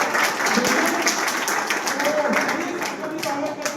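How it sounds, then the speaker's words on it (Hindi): Crowd at a motivational gathering welcomes Mr. Nizam Khan with continuous, even applause, a dense wash of clapping with faint voices underneath. "बिल्कुल तालियों से स्वागत करते हैं"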